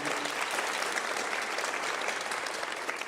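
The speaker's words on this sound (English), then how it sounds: "one more round of applause for all these counselors and the assistants that provide" An audience at a Rotary scholarship night claps in steady, full applause that carries on throughout, moderately loud with no break.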